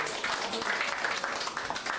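A round of audience applause at a 2006 tribute gathering, heard as a continuous wash of clapping at moderate distance with voices mixed in.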